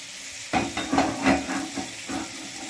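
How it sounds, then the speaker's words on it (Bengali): Spice paste frying in oil in a kadai for a Bengali banana-flower chhechki, a steady sizzle with a few bursts of stirring close by, no voices. "এর মধ্যে আমি মশলাটা ভেজে ভালো করে তেলের সঙ্গে এর কড়ার মধ্যে আমি মাখিয়ে নেব"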